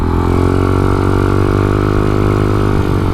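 Vehicle engine idling steadily after its head bolts were tightened, a loud, close, even running rumble with no talk.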